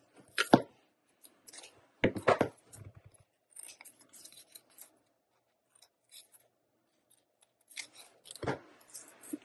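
Scissors trimming a paper St. Patrick's Day gift tag, a few short snipping cuts close by with quiet rustling of paper between them.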